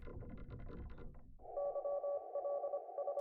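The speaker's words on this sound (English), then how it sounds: "the sound of a new electric telegraphic code has entered the ether" Electric telegraph Morse code beeps sound as a steady tone keyed on and off in short and long pulses, clear and continuous after a stretch of muffled rumbling noise.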